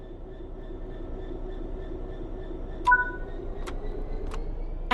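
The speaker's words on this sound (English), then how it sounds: "Apply some throttle to get the train moving." A train starts moving in the PS5 game Train Sim World 3, with a low steady motor hum, faint tonal whines and a few sharp clicks from the cab controls, no voices.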